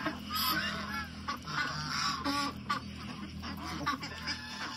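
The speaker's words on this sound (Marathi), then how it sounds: "फुल साईजमधले पेकिंग डक आहेत।" Full-size Peking ducks honk and quack repeatedly at close range, with overlapping calls forming a noisy flock chorus.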